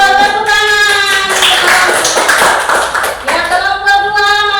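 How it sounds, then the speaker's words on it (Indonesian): Children in a classroom applauding together, a dense burst of hand claps close by that runs for a few seconds, with voices calling out over and around the clapping. "Tepuk tangan."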